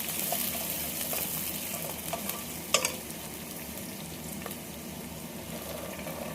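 Onion, green chili and star anise frying in hot oil as jeera rice is made, a continuous soft sizzle with occasional stirring scrapes and one sharper clink partway through, steady and close with no voices.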